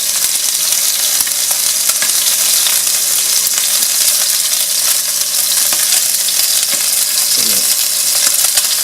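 Tuna sears in a hot pan with a loud, continuous sizzle and crackle, steady and close throughout, with a few faint clinks.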